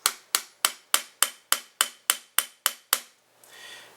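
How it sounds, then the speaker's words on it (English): A hammer drives a 1/8 punch against a roll pin during a Magpul M.O.E. trigger guard install: ten sharp, evenly spaced metallic strikes ring out close and loud, then stop. "we're going to want to start hammering this out"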